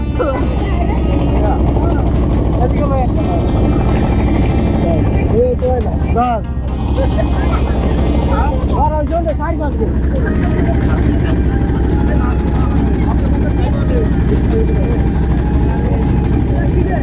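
A trawler's engine drones loud and steady throughout a boat trip to a fair, a constant low rumble with people talking over it.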